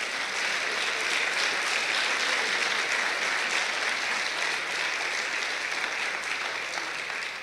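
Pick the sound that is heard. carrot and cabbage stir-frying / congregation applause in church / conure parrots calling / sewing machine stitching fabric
congregation applause in church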